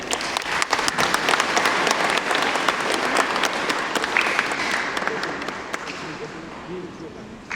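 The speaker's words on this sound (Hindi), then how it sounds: "सभी ताली बजाएंगे।" Guests at a Christian wedding in a church break into sustained applause, a dense, loud wash of many hands clapping together that gradually thins and fades toward the end, with voices mixed in.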